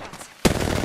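Gunfire in the Apex Legends video game: after a quiet lead-in, a loud burst of rapid automatic shots erupts and continues steadily to the end, close and dense.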